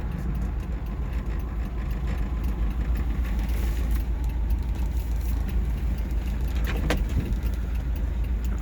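A 1941 Buick Super 56C convertible coupe's engine idles steadily, a continuous low rumble with light rattling on top, close by and with no one talking.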